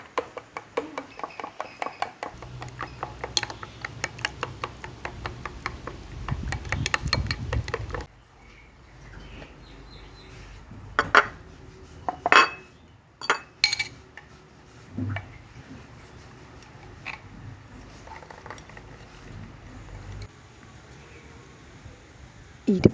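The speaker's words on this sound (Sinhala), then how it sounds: "ඊට පස්සේ මේ මිශ්‍රණයට බිත්තර එක ගානේ කඩලා දානවා. දාලා හැන්දකින් හොඳට ගහ ගන්නවා." A spoon beats eggs into a date pudding mixture in a bowl, making rapid rhythmic clinking and ticking strokes, close and steady at first, then sparser knocks and scrapes.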